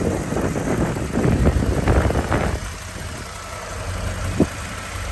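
A 1988 IROC-Z with its 5.7 V8 runs with a low rumbling idle, a louder burst of revving early on, then settling into a steady idle with one brief knock near the end.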